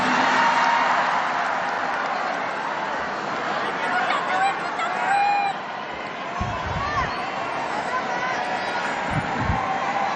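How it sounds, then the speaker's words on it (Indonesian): An audience at a national solidarity declaration event claps loudly, a broad sustained wash of applause with crowd chatter and scattered cheers running throughout. "kok tepuk tangannya paling keras nih"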